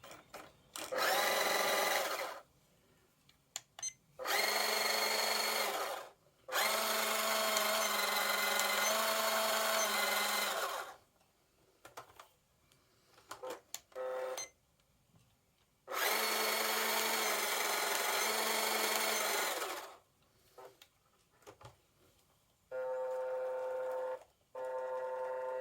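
An LDRC LD1299 ready-to-run RC car motor and gearbox whine in loud bursts of a few seconds each, separated by short quiet gaps with small clicks, close to the microphone.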